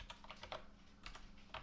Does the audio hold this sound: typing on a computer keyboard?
yes